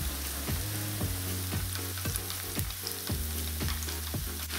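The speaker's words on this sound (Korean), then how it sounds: "프라이팬에 올리브 오일 4테이블스푼을 넣습니다. 그리고 양파를 볶아줍니다." Onions sauté in olive oil with a little doenjang, giving a continuous close sizzle broken by regular scraping strokes of a spatula about every half second.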